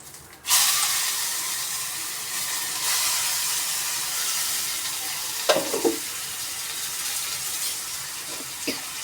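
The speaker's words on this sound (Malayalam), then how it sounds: "ഇഞ്ചിയും വെളു വെളു ചുവന്നുള്ളിയും വെളുത്തുള്ളിയും ചതച്ചെടുത്തത് ഇട്ട് കൊടുക്കാം" Crushed ginger, shallots and garlic drop into hot oil with curry leaves in a pan, bursting into a loud, steady sizzle that holds throughout, with a few soft stirring scrapes midway, for a carrot and beans stir-fry.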